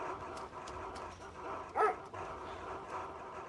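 A dog in the survival game DayZ gives a single short bark or yelp midway, standing out over steady game ambience with no talk.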